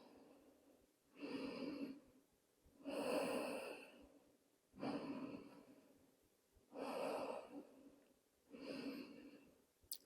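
Slow, deep breathing while resting during a yoga session, five long inhale-exhale swells spaced evenly about two seconds apart, close and soft against a quiet room.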